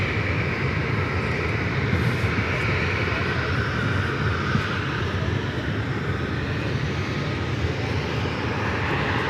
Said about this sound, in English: this American 737 heading to Dallas Fort Worth